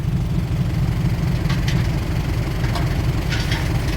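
Ford 6610 tractor engine labouring under heavy load, a steady loud low rumble throughout with a few faint higher clanks over it.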